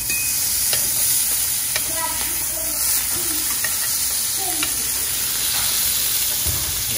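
Mahi mahi fillets searing in a hot pan, a loud, close, continuous sizzle and hiss with scattered spatter pops and soft scraping as the fish is turned, with no talking.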